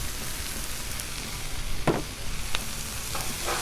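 Cajun shrimp and smoked sausage sizzle steadily on a hot Blackstone griddle, with a constant frying hiss broken by a few sharp scraping stirs of a spatula.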